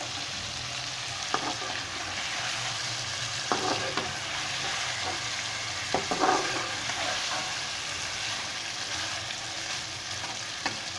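Chicken pieces fry in oil in a pot for a chicken and tinda (round gourd) curry, with ginger, garlic and green chili paste, a steady close crackling sizzle with occasional louder pops and stirring scrapes, no voices over it.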